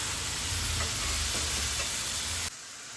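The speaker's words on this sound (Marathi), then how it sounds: "Mix mix mix." Spatula stirring colourful vegetable bhaji in a hot pan, with a steady close sizzle and rhythmic scraping strokes that run continuously before dropping off abruptly near the end.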